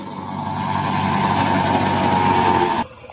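A tractor engine drones steadily and loudly nearby with a churning mechanical roar as its rotovator tills a waterlogged field, tyres slipping, then cuts off abruptly near the end.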